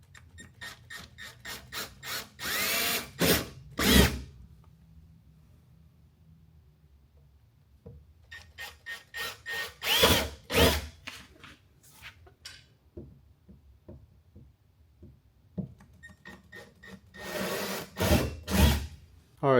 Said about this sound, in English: the hard fiberglass, I'm going to use my drill bit. I already dotted it, so just drill it in.